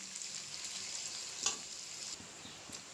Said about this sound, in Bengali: দিয়ে একটু ভাজা ভাজা করবো, বেশিক্ষণ না, একটু পেঁয়াজগুলো মজা পর্যন্ত।